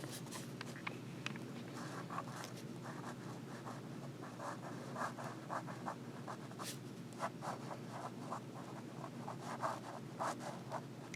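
Broad-nib Vanishing Point fountain pen writing in Baystate Blue ink, a quiet, steady scratch of nib on paper in short strokes over a low background hum.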